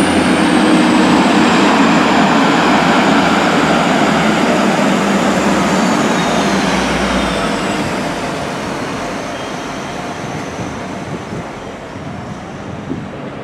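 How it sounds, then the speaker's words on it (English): Class 175 diesel unit 175007, bound for Manchester Piccadilly via Shrewsbury, rumbles loudly past at close range near Cardiff, a steady roar with engine whine that slowly fades as it moves away. "There goes 175007 going to Manchester Piccadilly. via Shrewsbury."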